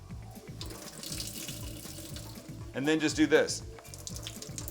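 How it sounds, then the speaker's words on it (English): Water is wrung out of cooked spinach bundled in a cloth in a home kitchen, streaming and splashing into a sink in a burst of gurgling liquid while someone talks over it. "Watch how much water comes out."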